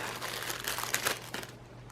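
Soft close crinkling and squishing as a kneaded eraser is worked and pressed against a drawing, a brief quiet burst of tacky rustling.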